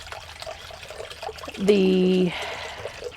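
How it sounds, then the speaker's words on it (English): Hot water, taken off the kettle just short of boiling, pours briefly into a bowl for dough, a steady trickle lasting under a second amid quiet kitchen room tone. "Seeing as I'm boiling the kettle for coffee, I've just pulled it off before it's boiling because we don't want it boiling to put the water in for"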